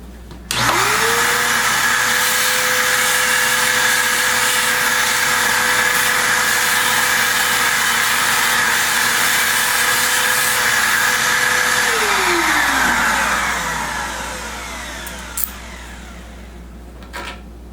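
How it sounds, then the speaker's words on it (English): A workshop vacuum cleaner switches on with a rising whine, runs at a loud, steady roar for about eleven seconds while sucking up cabinet-building mess, then powers down and winds off, followed by a small knock. "Vacuum our mess up right quick."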